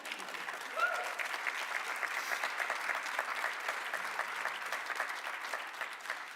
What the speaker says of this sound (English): You can applaud to that one.